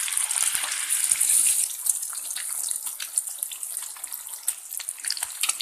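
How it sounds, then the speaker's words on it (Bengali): Eggs frying in hot oil seasoned with salt and turmeric give off a steady, bright sizzle that swells early, then settles into a continuous crackling hiss with no voices. "এবার ডিমগুলো আমি ভালোভাবে ভেজে নেব"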